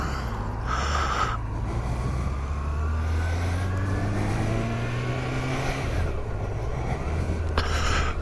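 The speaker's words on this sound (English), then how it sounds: "They're trying to get that car going." A car engine revs steadily upward in pitch, then drops back to idle, heard from a short distance against windy outdoor background noise.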